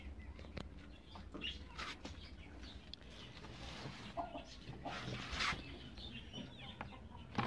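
Chickens near a nesting hen set on eggs cluck faintly amid a busy, noisy farmyard background, with scattered short calls and no talking.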